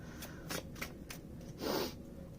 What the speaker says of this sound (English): So I'm just giving the deck a hand over hand shuffle before we do some riffle.